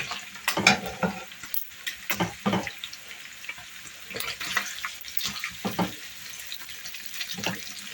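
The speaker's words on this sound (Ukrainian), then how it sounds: "Все це добре перемішуємо." Onion with paprika and cumin stirred in a frying pan for Hungarian goulash, giving scraping, clattering stirs over a steady sizzle that come in irregular bursts, close and moderately loud, with no voices.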